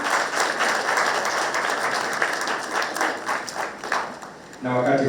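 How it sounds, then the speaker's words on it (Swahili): Sustained audience applause at a ceremony in Kenya where the President presides over the signing of a Boda Boda Safety Association agreement. The clapping is dense and steady for several seconds, then cuts off as a voice begins speaking. "Yes, tuwapigie makofi."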